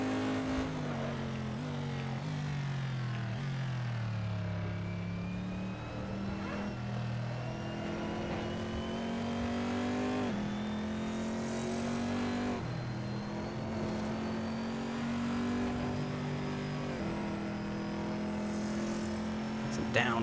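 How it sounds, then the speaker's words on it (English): A V8 race car engine drones steadily throughout, its pitch climbing and dropping through gear changes, with a voice talking over it at times. "This is a fair approximation of the sound of the C7R"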